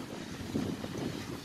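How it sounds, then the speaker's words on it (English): Wind blowing outdoors on a cold, sunny day, a faint, soft rushing with low gusty buffeting against the microphone. "kind of windy, like it's kind of cold out here"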